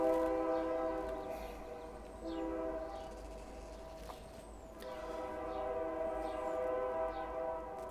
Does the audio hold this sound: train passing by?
yes